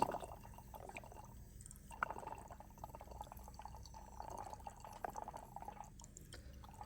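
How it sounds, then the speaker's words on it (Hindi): Acid from a small bottle is poured into the cold water pipe of a gas instant geyser, giving a faint, quiet trickle with soft dripping splashes over low background noise, and no talking. "तो सिंपल आप लोगों ने ठंडे वाले पानी के पाइप में इसको डाल लेना है।"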